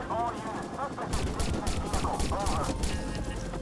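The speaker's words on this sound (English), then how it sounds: "Shots fired!" Gunfire in Watch Dogs, bursts of shots rattling loud and close amid police sirens and shouted voices, the firing starting abruptly after a second and continuing in rapid bursts.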